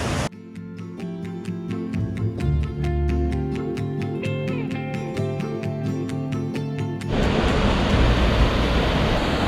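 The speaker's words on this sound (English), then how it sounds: "So we're at another waterfall here." A waterfall in the Quinault rainforest begins as a loud, broad, steady rush of falling water near the end, after a stretch of plucked melodic music with no water sound.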